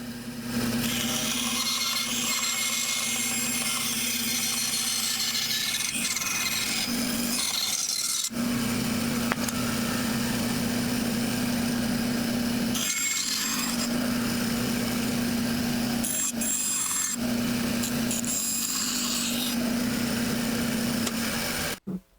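Steady rasping saw strokes cut a wooden marking knife outline, a continuous near scraping with a few short pauses as the blade stops and restarts.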